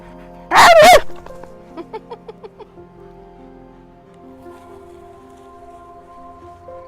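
A dog by a creek lets out one loud bark, followed by a quick series of soft yips and whimpers over a faint background murmur.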